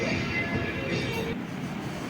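A MEMU train rolls along the rails in light rain, giving a steady rumbling, rattling clatter heard from inside the carriage at moderate volume without a break.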